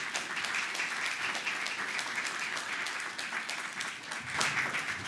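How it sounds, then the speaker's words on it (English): An audience at a lecture gives a warm round of applause, steady, dense clapping throughout, fairly faint and somewhat distant. "please give a warm round of applause to Paddy Ashdown"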